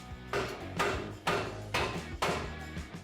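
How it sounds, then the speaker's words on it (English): Five heavy hammer blows strike the front spindle of a Ford Raptor at a steady, unhurried pace, each a sharp, ringing metal impact close by with no voices. "we're going to hammer the spindle to break the seal loose"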